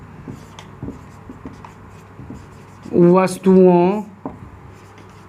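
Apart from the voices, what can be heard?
writing on a board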